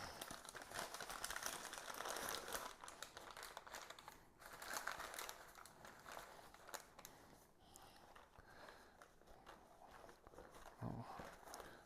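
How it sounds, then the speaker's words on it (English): Foil crinkling and crumpling as a smoked deer ham is unwrapped indoors, a steady close rustle that continues for the whole stretch with brief pauses and no talking. "let's unwrap it, see what it looks like"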